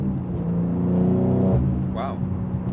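A BMW M3 G80 with a manual gearbox accelerates with a steady, rising engine drone heard from inside the cabin, loud and continuous, with a driver's voice briefly over it.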